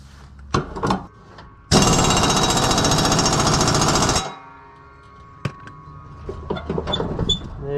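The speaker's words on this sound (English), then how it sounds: "just put the bolt on top, hand tighten it, and then impact it down." Impact wrench tightening the blade bolt on a riding mower deck spindle, one loud sustained rattling hammering burst of about two and a half seconds, close up, with a few clanks and small handling noises around it.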